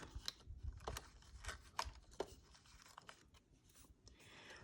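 Paper leaves being cut out by hand for a layered spring greeting card, giving quiet crisp snips and rustling tears in short irregular bursts, close and faint, with no talk.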